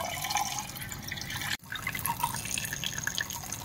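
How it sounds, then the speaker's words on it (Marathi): Water runs and splashes over used tea leaves being rinsed in a kitchen, a steady trickling pour with a brief break partway through. "आपल्याला पहिल्यांदा चहापत्ती पूर्ण धुवून घ्यायची आहे"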